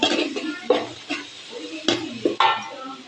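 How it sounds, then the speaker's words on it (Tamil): Cut garlic is stirred in hot oil in a pan for a garlic thokku, giving intermittent scraping strokes over a soft sizzle, close and moderately loud. "அந்த பூண்டு கட் பண்ணது எல்லாத்தையும் எண்ணெயில் போட்டு வதக்கணும்"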